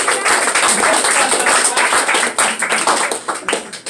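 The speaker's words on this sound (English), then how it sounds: "Give Sean a round of applause for sponsoring it." A small crowd in a comedy bar applauds, with sparse, uneven clapping and a few cheers that fade out after a few seconds.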